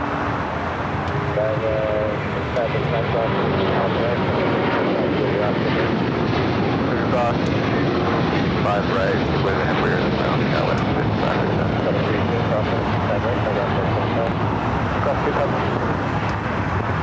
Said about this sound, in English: All right, A&A now rolling down to 25 right. Flight heading back to Tokyo Haneda.